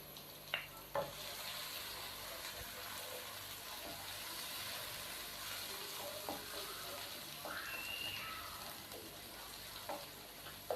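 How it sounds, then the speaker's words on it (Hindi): Chopped tomatoes and four green chillies fry in a pan for aloo bhujia, giving a faint, even sizzle with a few soft stirring clicks and scrapes, quiet and steady throughout with no voices. "टमाटरों को नरम होने तक हम इसको भून लेंगे।"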